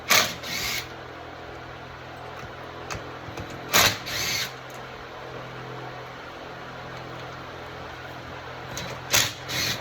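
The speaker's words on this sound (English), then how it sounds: "So let me just get the side cover off." Side cover being removed from a Stihl MS660 clone chainsaw during a sawmill-build teardown, heard as a few scattered clicks and knocks of plastic and metal, with short bursts of clattering handling noise over a quiet room background.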